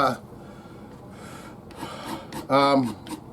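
Sandpaper, 600 grit, rubbed over a Jackson five-string bass guitar, soft brief scratchy rasping strokes close by, interrupted by a voice talking.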